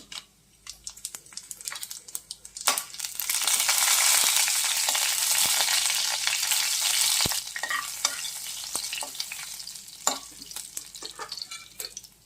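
Tempering of urad dal, cumin seeds and dry red chillies crackling in hot oil, a loud, close sizzle that swells in the middle and fades back to scattered pops and stirring clicks.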